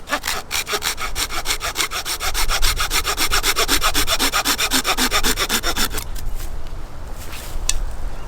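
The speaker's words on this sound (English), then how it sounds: "And I'm just going to use my saw to cut that off." Hand saw cutting through a bamboo stake held in a plumber's vise, with quick, regular back-and-forth strokes rasping close and loud for about six seconds before stopping, followed by a few light knocks.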